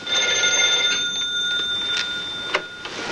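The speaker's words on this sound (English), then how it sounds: "And all of a sudden, the phone rings." A telephone rings in the classic film North by Northwest, a thin, continuous electric bell tone heard faintly over room noise for about three seconds, with a couple of brief clicks near the end.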